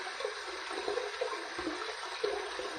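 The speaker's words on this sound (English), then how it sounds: "we're going to run this under some cold water" Cold tap water runs steadily into a sink while a shaving brush is rinsed under it, a close, continuous splashing wash with small irregular bursts and no voices.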